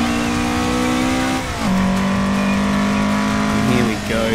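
A car engine in the Assetto Corsa racing game holds a steady high drone, dips briefly as it shifts down to first gear, then revs back up, loud and continuous with faint tire noise near the end.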